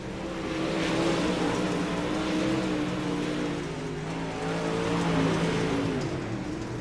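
Dirt track race cars circling a dirt oval, a dense continuous engine roar from several cars at a distance, swelling and fading slightly as they pass, with no voices.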